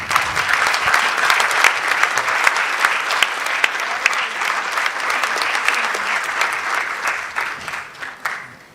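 Sustained, energetic applause from a large audience gathered in a church for a national science and maths quiz championship launch, with sharp individual claps standing out before it thins near the end.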